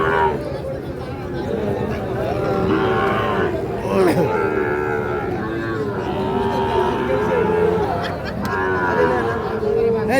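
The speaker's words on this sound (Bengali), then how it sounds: "দুটোই শাহিওয়াল ষাঁড় বাছুর।" Sahiwal bull calves about six to seven months old at a busy village cattle market, with repeated close moos over a constant crowd chatter and people talking nearby.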